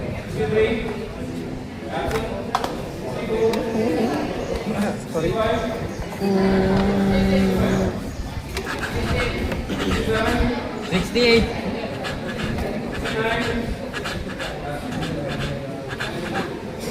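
A man on stage imitates a passing train with his voice, a rhythmic chugging and whistling run of vocal sounds lasting several seconds, close and loud.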